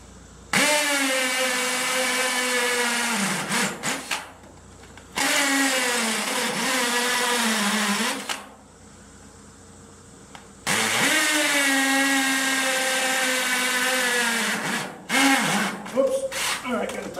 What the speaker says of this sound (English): You're gonna come in here and cut a bunch of holes.